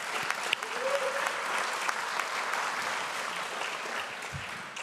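An awards ceremony audience gives a sustained round of applause, a dense wash of clapping at moderate level with a brief voice rising faintly in the middle.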